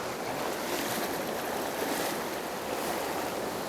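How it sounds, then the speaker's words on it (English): Fast water rushes over rocks on a Colorado fly-fishing river, a dense, steady roar of churning flow, close and loud without pause or talk. "there's that long, nice, long, glassy stretch of smooth water just kissing that fast water"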